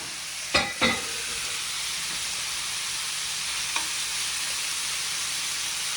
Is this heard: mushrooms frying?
yes